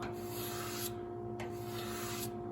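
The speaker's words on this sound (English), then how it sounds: "you should be able to just drag this across here, kind of gently, and you can see the scraping that high spot" A blade is dragged gently back and forth across a high spot in the thick clear coat of a 1978 GMC Sierra Grande C10 square-body truck. The scraping is steady and rasping, with three long strokes close up over a constant hum, and no talk.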